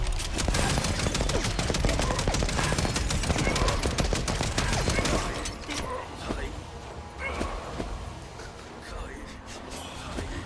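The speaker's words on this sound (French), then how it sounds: "La lance mitrailleuse." A machine-gun lance fires in the video game Wuchang: dense, loud, rapid bursts rattle without pause, then thin out into scattered shots and clanks.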